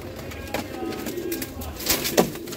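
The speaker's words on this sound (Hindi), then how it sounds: "बहुत अच्छा कबूतर है इसका जो जोंसड़े का बाप है" Soft, low pigeon coos sound nearby at a quiet level, with faint background noise.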